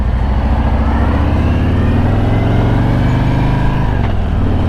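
Harley-Davidson Road Glide Special motorcycle pulling out into traffic: a loud, steady V-twin engine drone with deep low rumble and wind noise, constant throughout.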